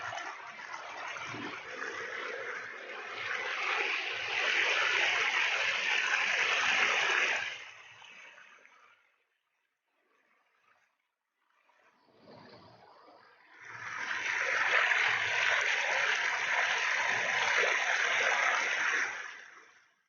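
A river near Khanpur rushes in a broad, steady wash, loud for several seconds, then drops almost to silence before the flowing water returns just as strongly.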